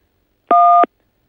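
A single short electronic keypad tone on a France Télécom voicemail line, a clean steady beep lasting about a third of a second, loud and isolated against silence.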